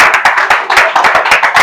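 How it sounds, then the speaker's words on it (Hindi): A small group claps for a student in a classroom, close, loud, uneven slaps in quick succession over less than two seconds. "इनके लिए जोरदार ताली बजाइए एक बार"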